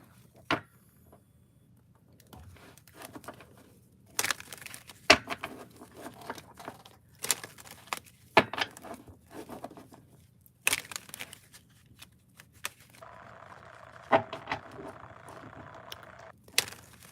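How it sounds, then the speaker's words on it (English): Tarot cards are shuffled close up in a quiet room, with scattered crisp riffles, taps and soft papery rustles separated by brief pauses, and no talking. "I'm going to shuffle the cards."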